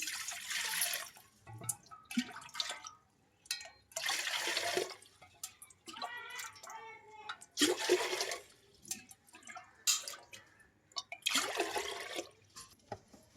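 Drinking water is poured from a small lota into a cooking vessel for pulagam, heard as several separate loud splashing pours close by, with short quiet gaps between them.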